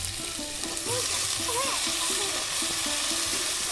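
Eggplant pieces frying in oil for a rustic village-style chela fish curry, a dense continuous sizzle close up with a repeating low rhythmic tapping and faint squeaky tones over it, no speech.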